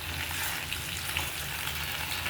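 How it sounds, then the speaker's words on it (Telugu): Gongura leaves crackle and sizzle in a hot pan with chillies, tomato and garlic, a dense, close, continuous frying hiss with no talk. "ఇక్కడ గోంగూర పెడుతున్నా"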